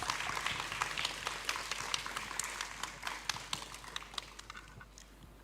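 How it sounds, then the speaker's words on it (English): Audience applause after student presentations at an international STEM forum, a scattered patter of claps that thins out over several seconds, faint and somewhat distant. "Let's give another round of applause for the excellent presentations."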